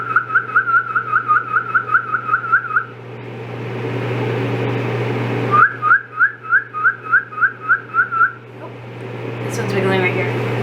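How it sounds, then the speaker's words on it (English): A person whistles at emu eggs laid on the ground before hatching, giving two runs of quick, repeated chirping whistle notes separated by a pause, close and clear over a steady low hum. "I like to just lay them on the ground and whistle at them"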